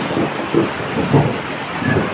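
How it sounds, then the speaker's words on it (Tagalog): Steady rain falls in Bacoor, Cavite after a spell of extreme heat, with low rumbles of thunder swelling and fading through the close, continuous downpour. "Umulan din sa wakas."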